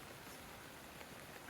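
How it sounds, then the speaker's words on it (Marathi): Steady rain falls over a village in the Konkan region of Maharashtra, a faint, even hiss of drops on surfaces heard alone in a short stretch. "पाऊस आता आलाय"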